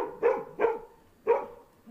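A dog barks three times in short, sharp bursts, close by, with brief pauses between the barks and no talking.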